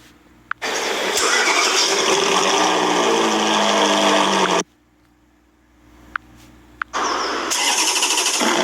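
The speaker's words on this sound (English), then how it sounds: "today I'm going to be playing car sounds" A recorded car engine cranks and catches, then runs loudly for several seconds. After a short near-silent gap with a couple of sharp clicks, a second loud engine burst follows.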